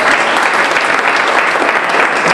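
An audience applauds steadily throughout a formal academic ceremony, a dense, sustained clapping with no pauses and no voices on top.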